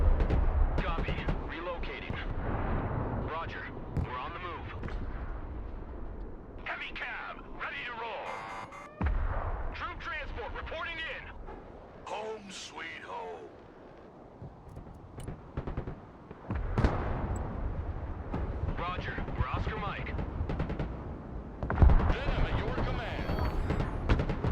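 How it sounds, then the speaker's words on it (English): Artillery barrages boom and crack in the war game Broken Arrow, with repeated heavy blasts and scattered gunfire rising and falling under steady spoken commentary. "So we're applying more and more pressure on B with some artillery as well."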